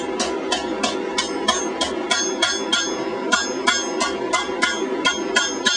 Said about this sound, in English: I'm pinching the hot metal between the flat of the hammer and the flat of the ball stake.